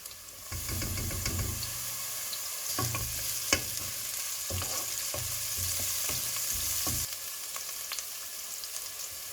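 Garlic sizzling in a pan for Jamaican jerk chicken with kidney bean and coconut rice, a close crackling fry with repeated scraping strokes and knocks of a spoon, the sizzle easing off toward the end.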